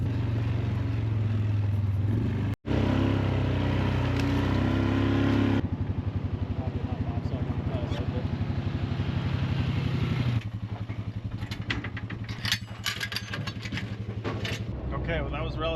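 Four-wheel-drive machine with an intermittent four-wheel-drive fault pushes and reverses among trees on an Alaska cabin-building site, its engine droning steadily with some clatter, loud then easing, with talk over it.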